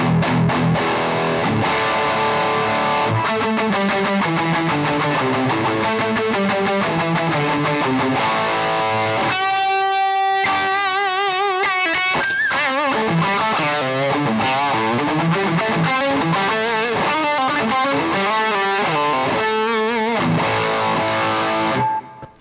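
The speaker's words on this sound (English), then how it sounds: "if I switch in the Tube Screamer" An electric guitar played through a Tube Screamer overdrive pedal into a clean amp sounds continuously for over twenty seconds, with driven, sustained chords and a tight, thinned-out bottom end, loud and close with no talking.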